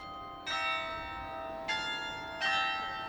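Church bells in Passau ring out as a melodic carillon, three distinct bell strikes with long shimmering overtones decaying between them, moderately distant and clear, no voices.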